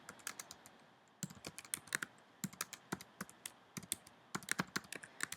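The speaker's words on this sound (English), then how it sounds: "So you just type in your question." Typing a question on a computer keyboard, quick irregular bursts of light key clicks close by, a brief pause near the start, then continuous tapping with no voices.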